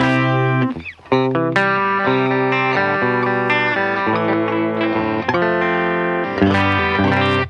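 Electric guitar played through an amp modeler pedal set to a Fender Deluxe Reverb voice, clean and bright on the bridge pickup, ringing chords and single notes with short gaps, loud and close, alone.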